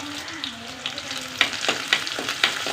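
Small shallots and curry leaves frying in hot oil, a steady crackling sizzle up close with a few sharper pops and spatters as the pan is stirred.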